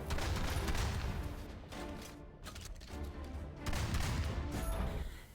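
Rapid, dense bursts of gunfire from a player's guns in an underwater video game, loud and sustained with a few short pauses between volleys, no voices.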